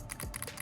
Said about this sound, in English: you have inline shoulder and trigger buttons. Clicky, there, dome switch,